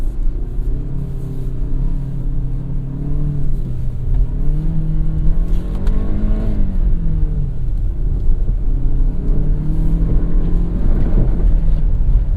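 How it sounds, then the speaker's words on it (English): A 2017 Kia Sportage SX AWD drifts around a roundabout on a winter night, its engine droning steadily with rising and falling pitch as the throttle varies, close and continuous, with no talking. "What a roundabout's good for? Well, drifting, of course."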